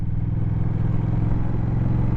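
A 2021 Honda Rebel 1100 motorcycle rides along with a steady, loud engine drone and throbbing low exhaust note that holds even throughout, with no talk over it.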